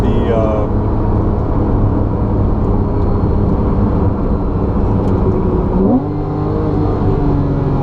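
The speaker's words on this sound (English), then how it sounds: "it's just not shy about revving to redline at all." A 2014 Porsche 911 Carrera 4S with PDK and sport exhaust drones steadily up close, holding high revs with a brief dip and climb near the end, loud and continuous.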